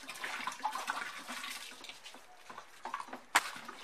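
Water being stirred to dissolve CBSS powder during detergent powder making, a steady sloshing swirl with scattered clinks and one sharp knock near the end, fairly quiet with no speech.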